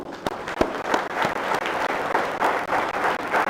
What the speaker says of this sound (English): Let's applaud her for it.